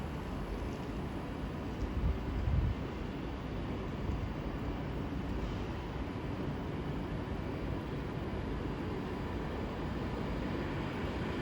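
An Avanti West Coast passenger train pulls out of London Euston station with a faint, steady low rumble heard from a distance, continuing evenly throughout.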